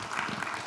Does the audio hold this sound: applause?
yes